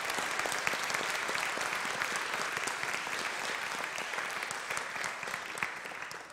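A church congregation applauds its confirmation class, steady dense clapping from many hands filling the room at moderate volume for several seconds before it begins to fade.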